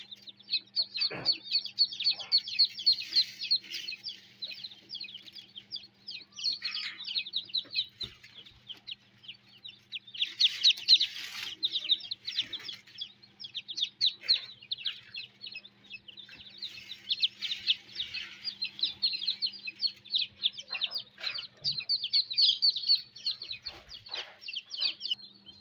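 Many newly hatched ducklings peep continuously in a dense, high-pitched chorus inside an incubator, close by and lively, with no talking.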